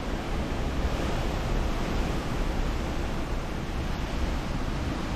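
Strong typhoon wind during Typhoon Mawar roars as continuous broadband noise, buffeting the microphone with steady gusts and no pauses or voices.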